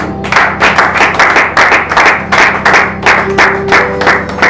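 A church congregation claps in praise, a full, close burst of rhythmic applause with many hands beating in an even, quick pulse that keeps going throughout.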